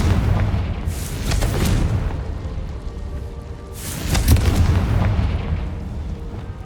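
Two booming Confringo spell explosions in the video game Hogwarts Legacy, each a loud burst with a crackling tail, about three seconds apart, with no talk.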